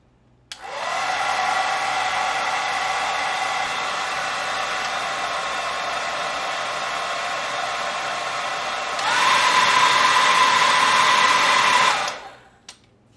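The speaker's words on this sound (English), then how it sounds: "Let me plug in a hairdryer right here, just to show you the current," A hairdryer powered through a customized bench power supply switches on with a click and runs as a steady whooshing whine, stepping up to a louder, higher setting near the end before cutting off.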